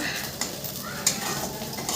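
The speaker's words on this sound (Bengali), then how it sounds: "আমি এখানে পেঁয়াজ ধরে দিয়েছি এবং পেঁয়াজটাকে এখন ভাজছি" Onions frying with a constant sizzle in a pan, stirred with a utensil that gives several sharp scrapes and clinks over the hiss, recorded close in a home kitchen.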